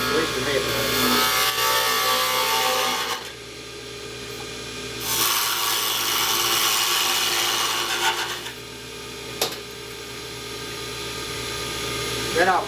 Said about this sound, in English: I'm going to use a parting tool here, so I'm going to go up pretty high